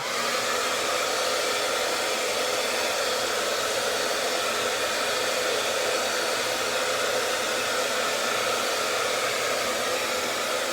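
A hair dryer blows at full power, a loud, steady, close whooshing roar that holds constant for the whole stretch with no voices.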